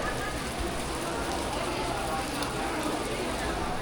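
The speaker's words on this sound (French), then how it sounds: "Ça y est, il pleut." Rain pouring down outdoors in Bangkok, Thailand, a loud continuous hiss of drops on surfaces that stays level and unbroken throughout.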